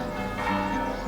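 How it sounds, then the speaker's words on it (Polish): Church bells ring at six-thirty in the morning in Kazimierz Dolny, a brief, steady metallic ringing with sustained resonant tones over faint background murmur. "i biją dzwony."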